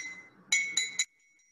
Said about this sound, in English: the spoon on a glass